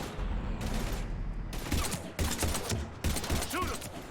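Dense rapid gunfire from a firefight against husks in the video game Mass Effect 3, loud, close bursts of shots surging in repeated waves over a constant rumbling background.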